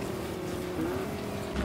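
A vehicle in Fortnite creeps along slowly, its engine giving a low, steady drone at moderate level.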